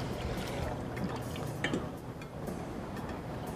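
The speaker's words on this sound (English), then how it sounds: "we need to rinse it off in fresh water." Molecular gastronomy snap pea noodles set in calcium chloride get rinsed in fresh water, with faint soft pouring and sloshing and a few light clicks, quiet and close, with no talking.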